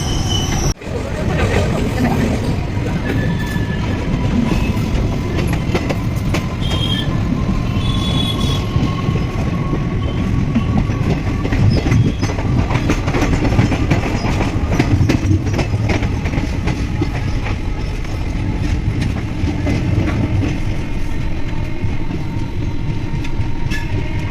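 A late-running express train rolls into Howrah station, its wheels rumbling loudly and steadily throughout, with long squeals from the wheels on the rails and occasional clicks and clanks as the cars pass over the track, all very close.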